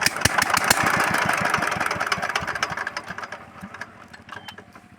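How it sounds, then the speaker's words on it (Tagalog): An engine cranks repeatedly without catching, a fast rhythmic chugging of the starter that is loud and close at first, then slows and fades over several seconds. "Ayaw umandar"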